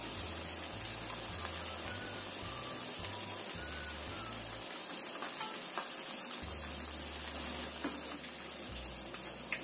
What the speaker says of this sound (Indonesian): Goreng sampai matang.